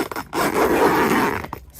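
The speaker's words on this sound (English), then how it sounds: "I could zip myself in here while I was working" A zipper is pulled along the fabric door of a no-build Magidome garden dome in one long, close, rasping stroke, with short tugs at the start and end.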